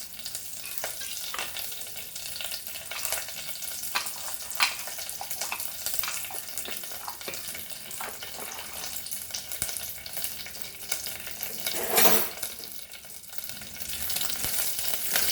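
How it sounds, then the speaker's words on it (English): Cumin seeds, curry leaves and ajwain crackle and sizzle in hot oil in a pan, a continuous soft frying hiss with scattered pops and a brief louder stir near the end. "Let's saute this nicely."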